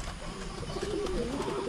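Pigeons coo in a backyard loft, a soft, low, rolling warble that swells in the second half over a steady hum of background noise.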